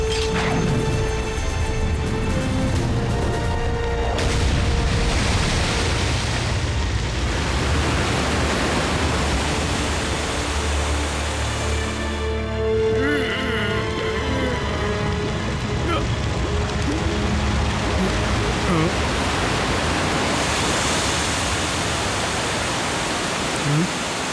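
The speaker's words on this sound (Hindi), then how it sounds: "अब पानी गिराओ" Cartoon water dumped from above onto a fire in the Transformers Rescue Bots episode Flobsters on Parade, a loud, sustained rushing roar of pouring water mixed with crashing and mechanical noise.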